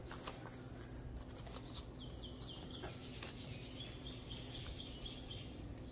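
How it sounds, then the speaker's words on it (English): Birds chatter with quick chirps and calls alongside a burst of flapping wings, faint and set against a steady background hum, with no talking. "The birds are so chatty here"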